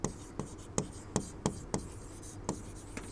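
Chalk or marker strikes a board in a chemistry lecture, making a series of sharp taps and short strokes about every third of a second, close and distinct, with no talking during the writing.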